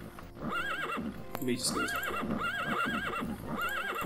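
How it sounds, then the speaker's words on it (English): Horse neighing repeatedly with clip-clopping hooves in The Elder Scrolls II: Daggerfall, several loud whinnies in succession while a person talks over them. "horse, calm down."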